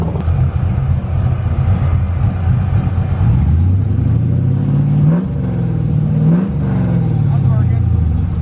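A drag car on a nitrous test run revs loudly nearby, its engine pitch climbing through several rising sweeps over a constant heavy rumble, while people talk over it.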